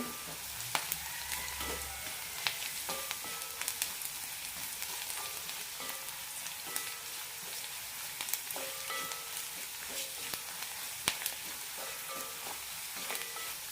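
Turmeric, Kashmiri chili powder and coriander powder being stirred and fried in a hot pan for a drumstick tomato curry, with a soft, steady sizzle and scattered scraping clicks from the stirring.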